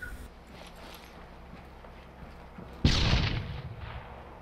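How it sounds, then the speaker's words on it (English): A rocket close air support strike in the Arma 3 combat game, a sudden loud blast-like burst that rumbles on and slowly fades after a quiet stretch of low background noise. "Looks like rockets, that was probably a CAS strike."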